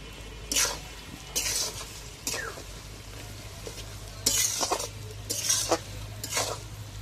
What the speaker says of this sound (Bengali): আমি আস্তে আস্তে করে নাড়াচাড়া করে আচারটা করে নেব